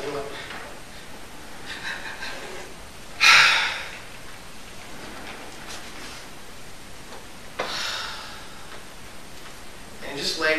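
A voice imitates a patient's breathing lying on a treatment table, with several loud, breathy gasps and exhales spaced apart across a quiet room.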